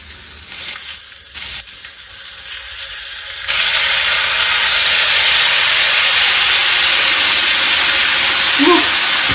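Sauerkraut hitting a hot pan over medium heat starts a loud, close hiss of steam and sizzle partway in, which stays strong and steady to the end after a quieter start.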